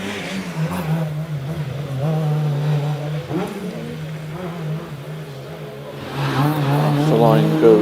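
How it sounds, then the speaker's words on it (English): A Peugeot 205 rally car launching off the line on a hillclimb at night: the engine revs and pulls steadily through gears, rising in pitch toward the end, with a commentator's voice speaking over it. "Off the line goes the Peugeot 205 of David Wilson"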